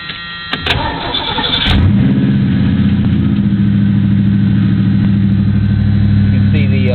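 A 5.0 car engine cranks and catches, then settles into a loud, steady idle close by with a faint rhythmic surge in its running, heard on its own without talk.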